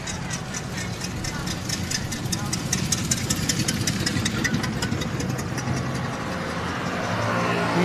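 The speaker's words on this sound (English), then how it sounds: "now we're going to listen to that low RPM chuffer come around" Vintage race car with a 500-cubic-inch engine at low RPM, a rhythmic chuffing engine beat passing by at a motor-racing festival, steady and moderately loud, with a person talking over it.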